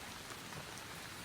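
Rain pouring steadily in a continuous, even hiss of dense drops, faint and distant throughout with no voices.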